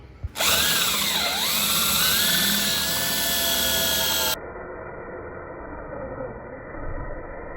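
A power drill whines close by as it drives screws into trailer floor beams, its pitch dipping and rising under load during one long continuous burst, then giving way to quieter background noise.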